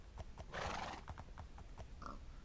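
A horse in the Minecraft video game, heard up close: a run of clip-clopping hoofsteps with a neigh near the start and another short whinny toward the end.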